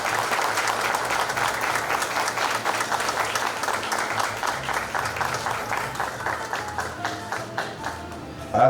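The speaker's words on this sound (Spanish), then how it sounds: "El aplauso a José Lionel Cerrato Quiroz." Sustained audience applause at a ceremony honoring the poet guerrilla Leonel Rugama, steady dense clapping throughout with a faint background voice, building slightly at the very end.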